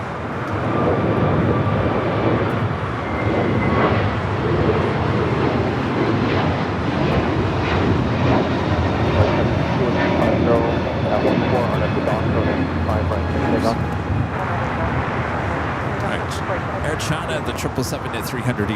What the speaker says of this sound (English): So I still have the first KLM flight now heading up to the north side of flight 602.